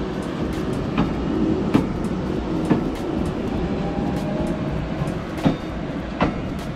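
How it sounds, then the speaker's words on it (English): Revolution VLR lightweight diesel-electric hybrid rail vehicle, a 56-seat branch-line railcar, running on a test track at a former power station, giving a steady rolling rumble with periodic clicking wheel-on-joint beats, fairly close and continuous. "The Revolution VLR is a new type of rail vehicle that's designed for branch lines"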